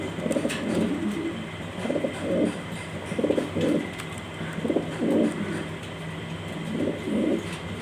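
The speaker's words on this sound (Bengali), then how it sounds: "খুবই সুন্দর একটা নরকবুতর স্পেঞ্জের কালার অ্যান্ডোলজিয়া" A male spangle-coloured Andalusian pigeon coos in repeated soft, low, rolling phrases, about five bouts spaced evenly, close by, over faint steady background noise.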